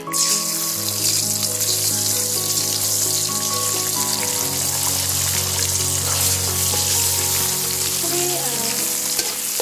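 An egg sizzles steadily in hot butter and oil in a pan, a loud, continuous crackling fry that holds for the whole stretch with no talk over it.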